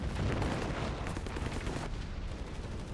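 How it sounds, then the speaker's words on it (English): A captain's mortar barrage in Company of Heroes 3, a WWII strategy game, rumbles as a steady, muffled wash of distant explosions and shellfire, moderately loud, with no voices over it. "What is that artillery? Oh, that's the Captain Mortar Barrage."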